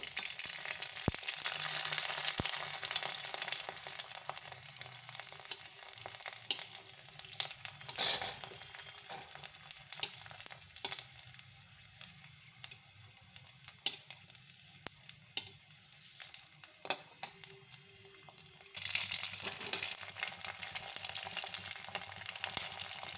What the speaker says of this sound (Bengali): এবার আপনাদেরকে আমি ভেজে দেখাচ্ছি একটা একটা করে